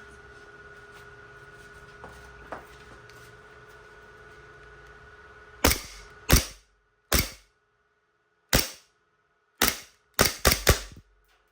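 A Double Bell Hi-Capa John Wick 4 Pit Viper gas blowback airsoft pistol fires eight sharp, close cracks, spaced irregularly and bunching into a quick group near the end, after a few seconds of faint hum and small mechanical clicks.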